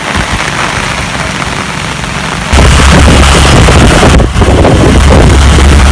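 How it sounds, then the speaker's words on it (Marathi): Loud, dense rain roars steadily on the Mumbai–Goa Highway at Rajapur while heavy wind gusts batter the microphone, growing harsher partway through with a brief dip near the end. "आणि पावसासोबत जोरात वारा पण सुटला आहे"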